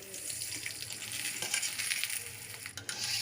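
Tandoori paratha frying in a pan of oil, giving a steady close sizzle and crackle with faint clinks across the whole stretch, with no voices.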